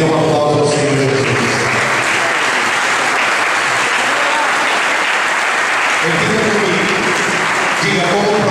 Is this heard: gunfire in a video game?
no